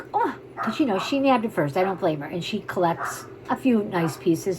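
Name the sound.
dog barking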